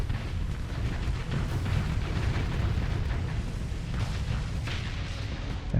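Beam weapon firing in the space combat game Starsector, a dense, steady roar of booming blasts and crackling bursts that stays loud throughout, with sharper bright flares near the end and no voices.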